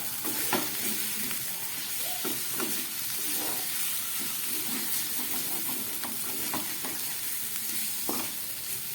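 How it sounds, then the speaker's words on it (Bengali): Peeled boiled potato tumbles into a hot pan of frying spice mixture for ghugni, giving a steady sizzle broken by scraping stirs and soft knocks. "এবার আমি এর মধ্যে দিয়ে দেবো সিদ্ধ করা আলু।"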